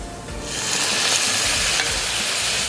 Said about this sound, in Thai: เราก็ใส่กระเทียมลงไปหน่อยนะครับ ผัดครับ